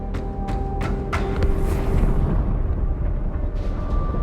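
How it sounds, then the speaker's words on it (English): A cutscene explosion from inside a space station in Halo 2 rumbles as a loud, sustained low roar with sharp bursts near the start and a rising swell in the middle, continuing to the end without voices. "That explosion came from inside the Athens, same as the Malta."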